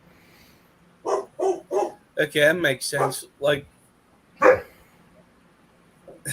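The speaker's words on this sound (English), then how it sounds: "your dog barked because of mine" Small lap dogs yap in a quick run of sharp barks, then a louder burst and a final yip, close and clear, while a person speaks briefly in between.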